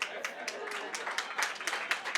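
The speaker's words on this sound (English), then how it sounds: "Yes, that deserves a round of applause." An audience at a leadership award celebration breaks into steady, dense applause, with many hands clapping evenly at close to moderate distance for the whole stretch.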